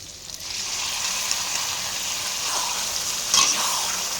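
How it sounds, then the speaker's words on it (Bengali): Dal poured into a hot pan, a loud, steady close-up sizzle that holds evenly throughout, with a slight splashy rise near the end and no speech. "এবার আমি ডালটাকে ঢেলে দেব"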